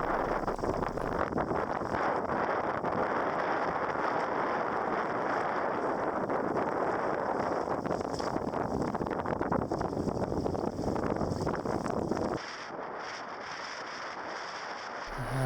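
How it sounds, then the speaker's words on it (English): Steady wind rushes across the microphone aboard a sailboat tacking through a channel off the Atlantic coast, a dense, continuous roar with water noise that holds loud for about twelve seconds, then drops abruptly to a lighter hiss. "Got a nice gust of wind here, so we can get up some speed."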